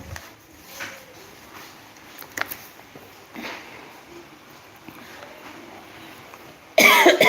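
A single loud, harsh cough bursts out near the end, after several seconds of quiet indoor background with faint scattered noises.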